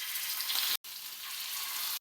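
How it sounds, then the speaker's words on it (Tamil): Marinated fish frying in hot oil in a pan for a fish combo, a steady loud broadband sizzle that holds throughout, broken by two brief silent cuts, with no voices. "இப்போ வந்து ஒரு மீனாக அப்படி சேர்த்துடலாம்"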